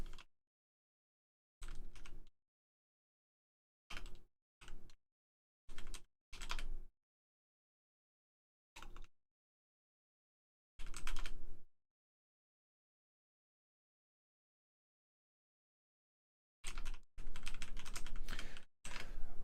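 Bursts of computer keyboard typing during a gaming session, coming in short clusters separated by silent gaps, with a longer rapid flurry of keystrokes at the end; close and clear, with no talking.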